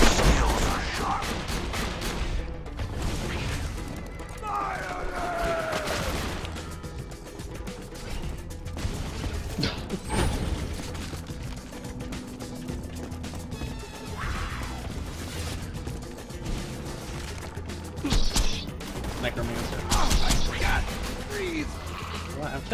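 Repeated gunshots crack at skeletons in a video game battle, with crashes and whooshes amid the fighting, while a player talks throughout.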